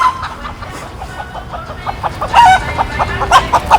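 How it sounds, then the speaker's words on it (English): Rooster clucking in short, repeated bursts at close range, loudest near the middle and end, over steady outdoor background noise with no talking. "The speed of the rooster!"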